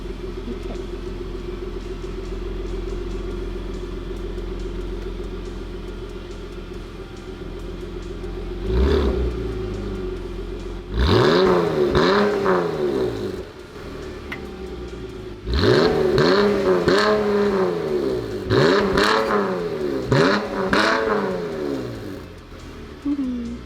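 A Dodge Challenger GT with a Borla S-Type cat-back exhaust idles, then gives repeated sharp revs up to about 4,000 RPM. The rising and falling engine sweeps are loud and close, and voices talk between them.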